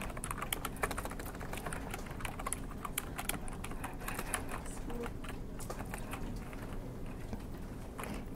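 Rapid, steady clatter of fingers typing on a computer keyboard, continuous close keystrokes with no pauses and no voices.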